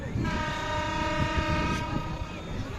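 A train pulls out of a busy Bangladesh railway station, its horn holding a long, steady blare over a heavy rolling rumble of wagons and faint crowd noise.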